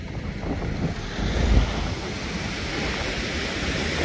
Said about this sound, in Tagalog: Ayan yung karagatan, no?